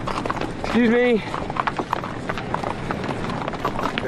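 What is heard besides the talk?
horse hooves clip-clopping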